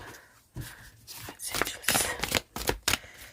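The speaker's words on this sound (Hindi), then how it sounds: "Let me just shuffle one more time." Someone shuffles a deck of playing cards by hand, giving several quick riffling bursts of crisp card flutter that grow louder toward the end, close and fairly quiet.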